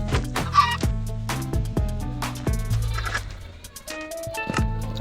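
A chicken in a Minecraft-style game gives a run of short, sharp, close clucks in an irregular rhythm, with brief pauses between bursts.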